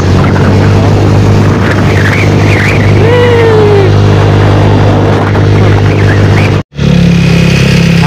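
A Rusi motorcycle engine drones loudly and steadily at close range, with a brief gap near the end before the engine noise returns.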